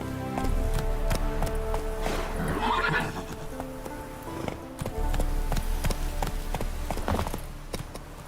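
Roach the horse in The Witcher 3: Wild Hunt gives a loud whinny and then gallops, with rapid rhythmic hoofbeats close by and a few taps, and no one talking over it.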